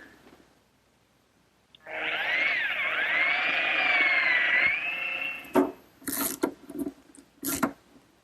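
A drill whirs steadily for a few seconds, boring pilot holes for screws in a wooden writing desk, then stops, followed by several short bursts of drilling and knocking.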